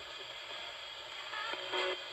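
A radio gives off faint, hissing white-noise static in a quiet room, with a few brief louder crackling surges near the end.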